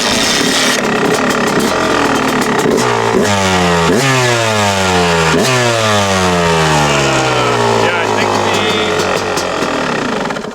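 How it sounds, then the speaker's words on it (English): A Yamaha YZ250 two-stroke dirt bike running on race fuel revs hard and loud nearby, its pitch climbing and falling through repeated throttle blips, with a raspy, buzzing tone that carries throughout. "initial startup was good. I just had to get it running a little bit"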